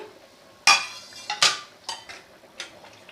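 A utensil stirs moong dal with soft gourd stems in a metal pot, making a few sharp clinks and scrapes against the pot, close and fairly loud with short gaps between strokes.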